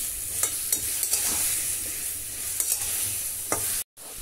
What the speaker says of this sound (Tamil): இப்போ நல்லா நம்ம பரட்டி விட்டுடலாம்.